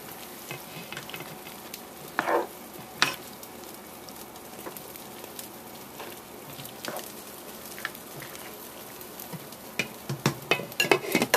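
Salsa frying in hot oil in a pan, a steady close sizzle with scattered pops and spatters and a few brief stirring scrapes, with no talking.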